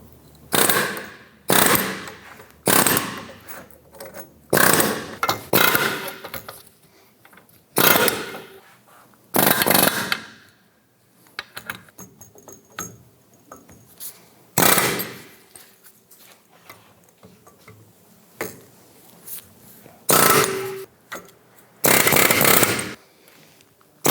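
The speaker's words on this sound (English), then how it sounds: "We're going to use our A-hammer and just work on the edge and then pop that bushing out." Sharp metallic hammer strikes from an A-hammer knocking out a front upper control arm bushing on a 1997-2006 Jeep Wrangler, in short rapid bursts separated by pauses and quieter clinking, close and loud.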